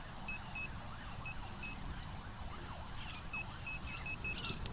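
Metal detector over a buried target, giving short paired electronic beeps in several separate bursts against a rumbling, windy outdoor background.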